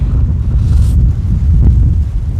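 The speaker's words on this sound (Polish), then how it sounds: "Wiatr wieje, zobaczcie, zwiało" Gusty storm wind buffets the microphone beside beehives, a low rumbling roar that rises and falls for a couple of seconds with no speech.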